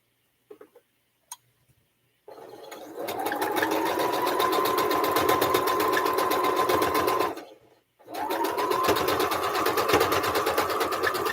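A sewing machine stitches fabric for a pumpkin piece in two steady runs, each several seconds of close, loud, even whirring with a brief pause between, after a few small clicks at the start.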